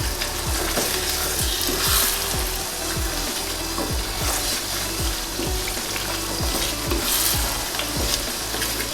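Pandan leaves get stirred into rice cooking in a pan, with a steady sizzle and regular scraping strokes of a utensil against the pan, close and continuous throughout.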